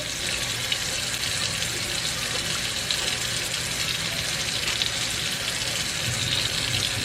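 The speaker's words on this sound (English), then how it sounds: "Just rinse it out, and I'll just repeat this process until it's as clean as I would wish it to be" Water from a tap runs steadily over a washable part of a Shark Navigator vacuum during rinsing at a sink, a constant close hissing gush with no talk.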